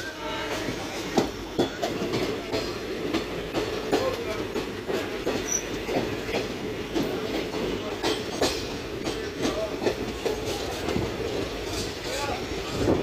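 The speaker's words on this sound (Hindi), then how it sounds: "चल चुकी है दोस्तों हमारी ट्रेन फिरोजशाह रेलवे स्टेशन से।" Ferozepur Cantonment–Ludhiana express 04998 rolling onward from Firozshah station in Punjab, heard from on board as a steady rumble with rhythmic wheel clacks and someone talking over it.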